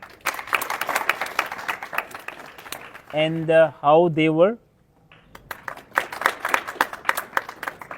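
A debate competition audience claps in bursts, with loud applause near the start and again toward the end, while a person speaks briefly in between.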